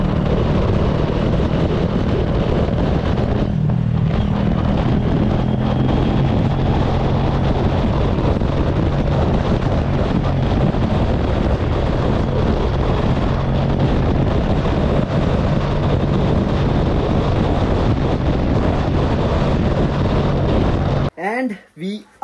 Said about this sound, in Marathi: आणि वारा आज भाई वारा आहे बघा, काय वारा आहे खतरनाक. आवाजावरनं तुम्हाला कळत असेल.